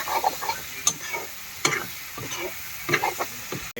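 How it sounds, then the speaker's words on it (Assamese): Meat frying with tomatoes in a pan, stirred now and then: a steady close sizzle broken by several sharp scraping stirs at irregular intervals, no talking. "এতিয়া বিলাহী দি পূৰা ভাজি আছোঁ মাংস।"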